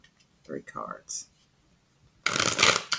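Oracle cards are shuffled by hand in a rose quartz reading. A quiet opening with a few faint sounds and bits of voice gives way to a loud, close riffling shuffle over the last second.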